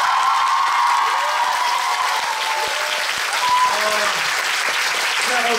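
Continuous crowd applause in a theater at a musical audience talk-back for 'Gwangyeom Sonata', steady dense clapping with a few scattered cheers and voices mixed in.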